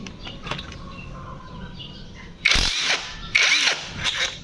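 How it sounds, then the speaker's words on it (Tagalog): An impact wrench works on a Yamaha Aerox 155 motorbike, giving three loud, close whirring bursts in the second half, each roughly half a second long with short gaps between them, after a quieter stretch of background noise. "banatan natin ng impact wrench"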